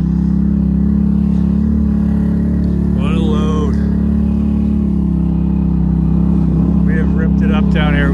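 A Ford EcoBoost truck engine drones steadily while driving through snow, a loud continuous low rumble inside the cab with brief faint voices over it.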